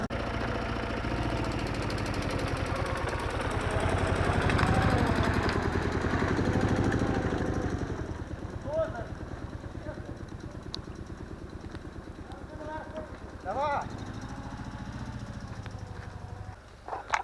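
A motorcycle engine runs steadily up close, rumbling and knocking while it hauls an oak stump along rough ground, swelling louder midway and then settling into a steady idle-like chug with faint clunks.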